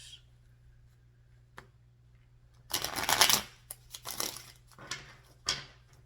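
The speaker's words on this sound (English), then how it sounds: "Oh, that didn't want to shuffle the way I like it." A deck of tarot cards shuffled by hand, a quiet tick or two before a loud riffling burst of crisp flutters, then several shorter flicks and taps of the cards settling.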